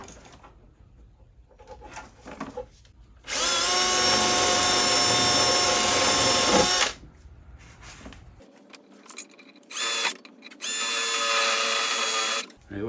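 A cordless drill bores into the body of a Smart Fortwo EQ near wiring, with loud sustained whirring bursts separated by quieter pauses, close and harsh, ending in a few shorter stop-start runs.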